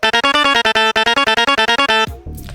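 An Indian-style synth lead made in FL Studio and squashed with OTT compression plays a rapid, loud run of chopped staccato notes that ends in a swooping falling tail, with no voices.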